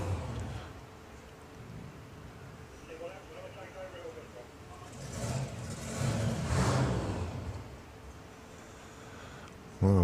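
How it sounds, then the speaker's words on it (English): A hot rod drag car's engine at a drag racing meet briefly fires and revs, then dies away, with mid-distance engine noise under crowd ambience and a commentator talking over it. "Well, Joe's engine starts, but it just doesn't want to keep going."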